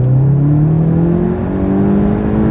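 A Volkswagen Golf engine revs hard and close, its steady rising whine climbing in pitch over about two and a half seconds, loud and continuous with no talking.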